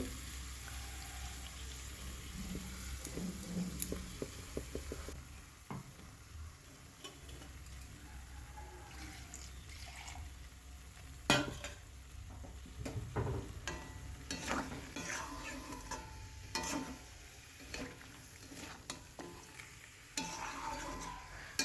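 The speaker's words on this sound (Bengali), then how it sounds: "চিকেনটাকে ভালো করে কষিয়ে নিয়েছি" Chicken being stir-fried in a pan, a steady low sizzle with scattered scrapes and clinks of a spatula against the pan, no voices.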